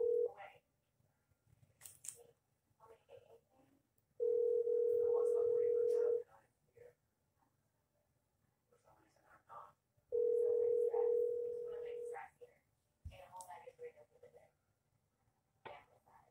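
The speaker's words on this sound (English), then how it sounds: "And it's ringing. It's going through." A phone call placed on speakerphone to a local Little Caesars pizza shop, ringing twice with two long steady ring tones separated by quiet, and brief clicks and faint noises around them.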